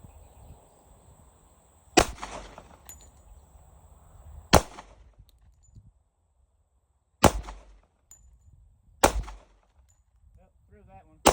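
A Metro Arms Commander pistol fires at targets: four sharp, loud single shots spaced a couple of seconds apart, with short echoes and quiet handling noise between them.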